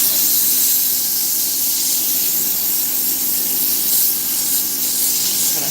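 A bone pressed against 120-grit sandpaper on a spinning machine makes a loud, continuous, airy hiss and grinding rush, steady and close throughout, with no talking.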